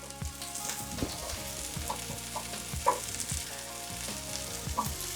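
Mushrooms browning in a pot over high heat, giving a steady sizzle with repeated clatter and scraping of stirring, close and moderately loud with no voices.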